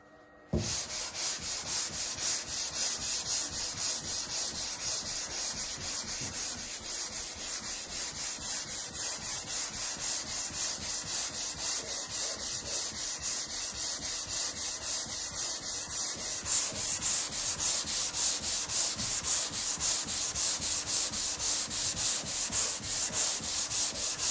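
Steady, continuous sanding on a car body panel, close and fairly loud, running unbroken for the whole stretch after a brief quiet start, with no talking.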